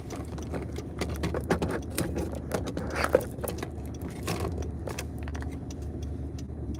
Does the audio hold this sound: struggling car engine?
yes